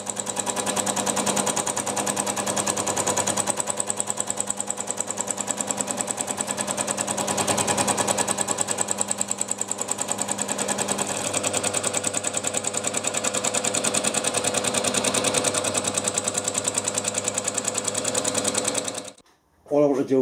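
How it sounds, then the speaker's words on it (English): A milling machine fly cutter takes a finishing pass across steel, giving a loud, steady, rapid rhythmic chatter that runs almost unbroken for about nineteen seconds before stopping abruptly near the end. "Finish with a fly cutter on steel, and you can get a mirror finish on aluminium."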